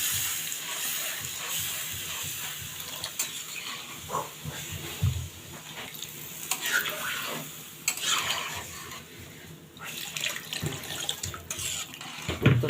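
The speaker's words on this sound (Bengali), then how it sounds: "ঝোলের জন্য পানি দিয়ে দিচ্ছি" Water pours into a pot of beef curry to make a thin broth, a continuous splashing and trickling stream close by with a few clinks, and no talk.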